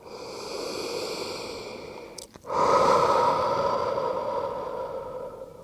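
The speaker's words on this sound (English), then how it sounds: "you're going to breathe out the sound W-H-O" A long, slow breath pushed out on a whoo sound in a prenatal yoga session, breathy and airy, broken by a brief pause and a quick inhale before the exhale resumes, close and soft.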